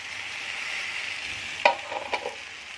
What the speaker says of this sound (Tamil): நெக்ஸ்ட்டு நம்ம தக்காளி போட்டுப்போம்.